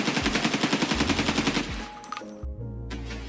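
Automatic gunfire sprays in rapid, evenly spaced bursts in the shooter game Escape From Tarkov, a loud, close string of shots for about a second and a half followed by trailing echoes and faint mechanical clatter.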